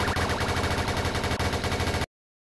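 Dense, rapid automatic gunfire rattles continuously from a firefight in the crime game MVB2 Vida do Crime, loud and unbroken for about two seconds before cutting off abruptly.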